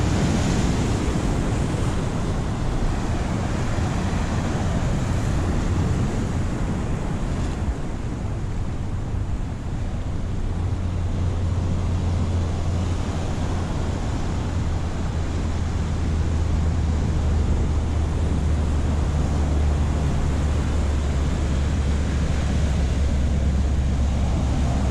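Pacific Northwest ocean surf at La Push, a loud, continuous roar of breaking waves mixed with wind buffeting the microphone, with no voices.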